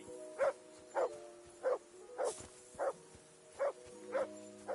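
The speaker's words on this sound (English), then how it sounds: "Jesus, Henry, that barking's driving me nuts." Dog barking in the medieval video game Kingdom Come: Deliverance II: eight evenly spaced barks, about one every half-second, fairly close and steady over a low background hum.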